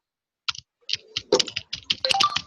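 Typing on a computer keyboard, a run of quick irregular key clicks in short bursts after a brief silence, close and clear with no talking.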